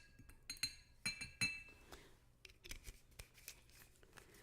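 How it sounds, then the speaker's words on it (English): A drink is cracked open and poured into a glass, giving a series of sharp clinks and taps with a brief fizzy rustle, quiet and close with small gaps between the sounds. "I'm gonna crack it open and pour it into my glass."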